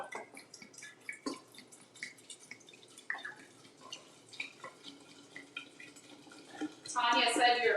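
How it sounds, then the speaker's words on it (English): Wine being poured into a vessel at home: faint scattered drips and clinks at first, then a loud, steady splashing stream of liquid near the end. "now I'm gonna pour the wine in here."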